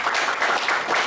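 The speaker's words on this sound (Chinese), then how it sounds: "掌声鼓励一下" An audience at a Chinese Toastmasters talk applauds: steady, dense clapping from many hands, fairly loud and continuous through the whole short stretch, with no one speaking over it.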